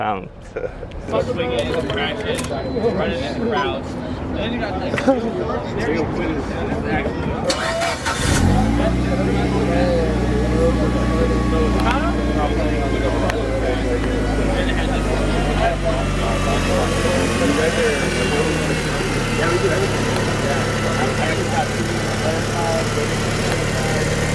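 A car engine cranks and catches, then settles into a steady, loud idle that continues, with a slight shift in tone later on.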